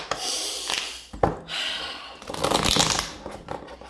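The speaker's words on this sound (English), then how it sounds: "Let's shuffle." Tarot cards shuffled by hand in a steady series of papery riffling bursts, close and fairly loud, with no talking.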